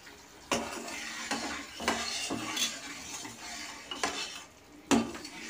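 Falui fish frying in a pan as water goes in and a utensil stirs: repeated sharp scrapes and clinks of metal against the pan over a low sizzle, several distinct knocks spaced irregularly, close and fairly quiet.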